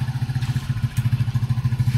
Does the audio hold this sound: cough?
no